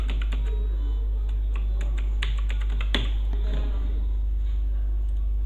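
A phone number is typed on a computer keyboard in a run of quick, close, crisp key clicks, with one louder tap near the middle and no voices.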